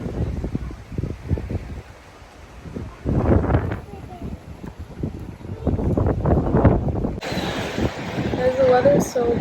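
Breezy wind at a Charleston, South Carolina waterfront park with swings and a bridge in view, buffeting the microphone in uneven gusts beneath steady talk from nearby voices.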